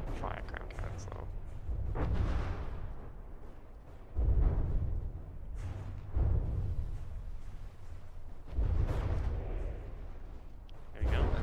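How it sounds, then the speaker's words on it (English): Cram cannons firing from a light frigate in the naval combat game From The Depths, heard as several deep, heavy booms spaced a few seconds apart under ongoing battle noise and someone speaking. "There we go, there's light frigate's crams coming in."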